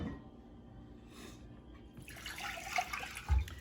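Water runs and splashes into a container, starting faintly and swelling into a steady pour with a small clunk near the end.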